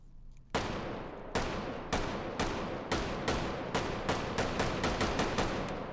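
A Bren light machine gun with bipod fires about a dozen loud, sharp semi-automatic shots in the VR shooting game Hot Dogs, Horseshoes & Hand Grenades. The shots come at a steady pace that quickens near the end, each with a short decaying tail.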